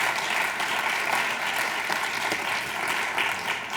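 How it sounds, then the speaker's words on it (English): Sustained applause from an audience at a 2017 Chamber of Commerce installation ceremony, welcoming the chamber officers, a dense steady wash of clapping throughout with no speech. "please give them a round of applause first."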